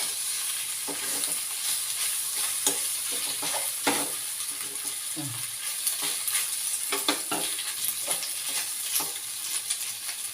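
Pasta being stirred and mixed in a hot pan so the strands separate, a steady sizzle with repeated scraping clicks of the spoon against the pan, fairly close and continuous with no voices.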